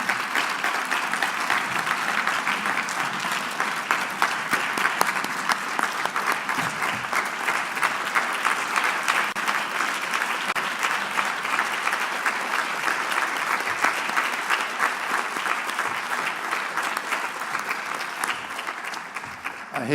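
A large audience applauds steadily, a dense wash of clapping that stays loud and even throughout.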